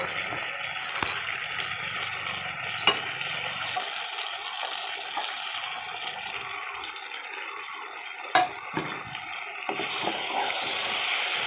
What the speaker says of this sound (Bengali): এখন আমি গলদা চিংড়ি মাছগুলো দিয়ে দেব।